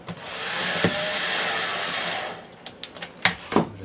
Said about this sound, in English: Dear me, this power screwdriver is really